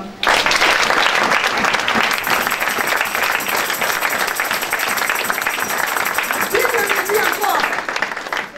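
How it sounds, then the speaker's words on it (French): A church congregation applauding in praise, dense continuous clapping from many hands that holds loud and steady throughout, with a voice briefly audible near the end. "acclamons pour les Seigneur"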